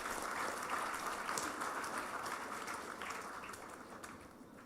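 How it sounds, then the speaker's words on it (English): Applause from the audience for the panel on stage at the 7th o2h Collaborative Innovation Conference, a faint, distant wash of clapping that slowly fades toward the end. "let's have a big round of applause for our panel on the stage"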